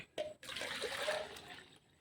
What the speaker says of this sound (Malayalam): പിന്നെ ഒരു ലിറ്റർ കഞ്ഞീൻ്റെ വെള്ളം